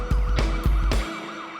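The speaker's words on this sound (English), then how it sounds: "Sirens blaring, the cop tries to overtake" A police car siren wails in quick repeating sweeps, loud and close, during a chase on narrow UK roads, cutting off abruptly after about a second.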